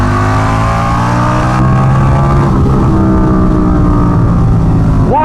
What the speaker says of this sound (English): Wide open throttle all the way to the red line.